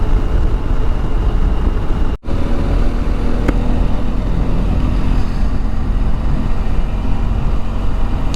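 A BMW R1250 GSA motorcycle rolls through the center of Boulder, Colorado, its steady engine drone blended with loud wind rush throughout, broken by one brief dropout.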